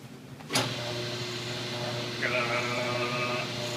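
A large auger screw in a homemade plastic recycling machine, driven by an electric motor, starts with a sudden thump and settles into a steady, close whine with a faint rising squeal partway through.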